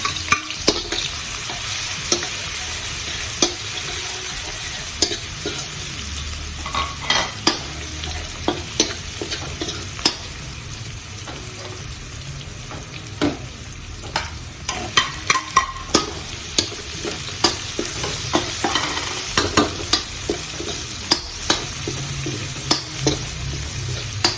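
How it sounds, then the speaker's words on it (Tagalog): Garlic sautéing in hot cooking oil for pinakbet, a steady close sizzle with frequent sharp scrapes and clicks of a spatula stirring in the pan, continuing without speech. "So, mantika. Yan. Lagyan na natin bawang."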